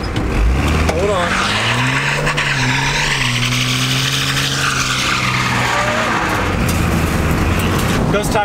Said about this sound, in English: You can drift right here.